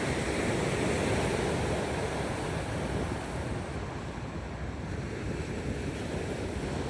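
Waves wash onto a sandy beach in a constant, close surf roar, mixed with gusting wind buffeting the microphone and no voices heard.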